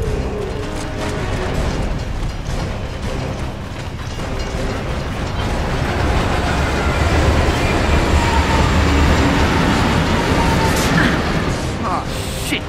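In Gears of War 3 split-screen campaign gameplay, a train thunders through a tunnel toward the players, a loud continuous rumble and mechanical clatter that swells toward the middle, with voices speaking over it.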